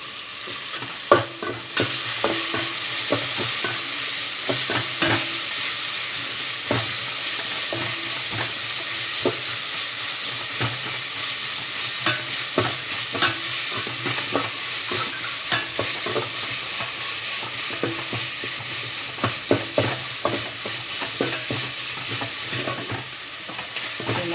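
Garlic paste for chicken biryani fries with a continuous bright sizzle as it is stirred in the pan, with frequent scraping clicks of the utensil, close and steady with no voices.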